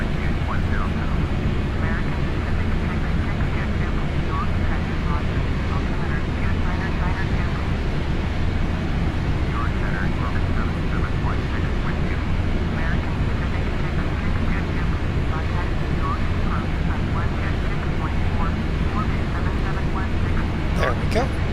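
A steady, low engine drone from a Concorde with its throttles pulled all the way back in the X-Plane flight simulator, running continuously beneath someone talking.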